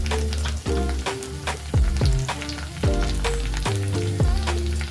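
Onion, green chillies and curry leaves sizzling in a hot pan: loud, crackling spits over a continuous fry, with sharp bursts and clattering stirs at irregular intervals, close up and without speech.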